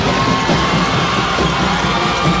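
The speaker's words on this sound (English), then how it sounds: "And they are cheering now" A packed arena of high school girls' basketball fans at a state final roars in steady cheering, a dense wall of whoops, yells and shouts that holds loud and unbroken throughout.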